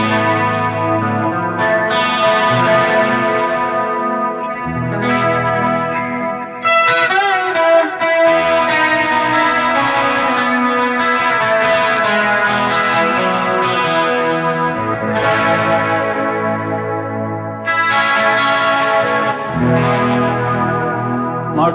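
A crunchy, mildly distorted electric guitar, a Jackson KE3, plays chords and riffs with echo and chorus through scooped-sounding pickups, continuous for the whole stretch.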